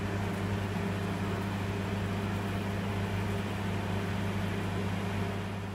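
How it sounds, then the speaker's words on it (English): A microwave oven runs on high power while cooking brinjal curry, giving a steady, even hum and whir with no breaks and no talk over it. "So again I am going to microwave it for another 2 minutes."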